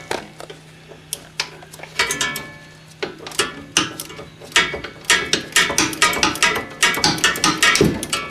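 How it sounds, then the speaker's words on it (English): A ratchet and socket work a shock absorber bolt loose on a Mercedes 300D, starting with slow intermittent clicks and then rapid close ratcheting that speeds into a dense metallic clatter. "I'll just put a ratchet in the socket"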